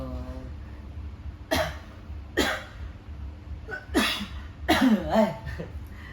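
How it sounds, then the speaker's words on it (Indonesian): Several separate coughs, about five, come at irregular intervals, close and fairly loud, over a quiet background. "Lagi batuk gini"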